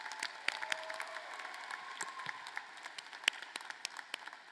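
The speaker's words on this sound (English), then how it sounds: "A round of applause for these two outstanding seniors." Audience applause at a spring 2023 commencement ceremony honoring two graduating seniors, a light, scattered patter of claps with a few sharper individual hands standing out, steady at moderate distance with no talking.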